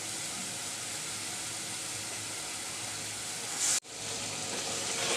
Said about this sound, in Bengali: অল্প পানি দিয়ে কষিয়ে নিব